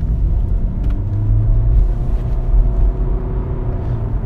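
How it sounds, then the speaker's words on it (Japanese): Honda Insight hybrid's petrol engine starts up and rises under acceleration in sport mode, a steady low rumbling drone heard from inside the car with no talking. "あ、すぐエンジンかかっちゃいましたね。"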